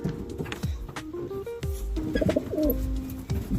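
Low, rolling coos from racing pigeons in a basket repeat over a dense, murmuring background of birds close by, with soft rustles and shuffling between calls.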